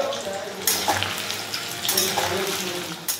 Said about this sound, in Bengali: আবার এখানে আলু ভাজা হচ্ছে